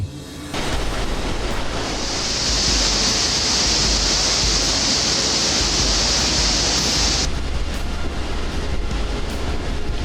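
A NASA rocket launch pad's water deluge system releases a massive torrent of water. The steady, loud roar is like a waterfall, starting abruptly and holding constant throughout.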